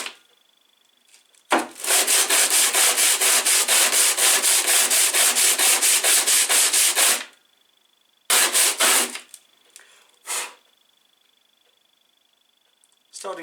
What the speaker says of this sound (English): take a bit of sandpaper on a flat surface